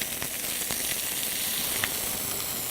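Lamb shank searing in a hot pan for an Easter lunch, giving a steady, even sizzle throughout with a few brief pops and crackles, close and alone with no voices.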